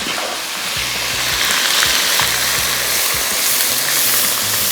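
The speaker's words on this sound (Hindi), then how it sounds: "ये आ गया पिसा हुआ प्याज और सबसे पहले तो इसकी फ्राइंग शुरू हो जाएगी।" Ground onion frying in hot oil, a loud, steady, dense sizzle that carries on without a break from start to finish, close by, with faint low clatters underneath and no talking.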